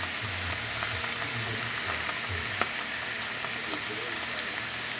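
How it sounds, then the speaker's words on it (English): Seasoned meat sizzling as it goes into a hot pan beside thawed frozen vegetables for smoky taco burgers, a dense continuous frying hiss with faint stirring clinks and a sharp tap midway. "I'm just going to add my meat in there"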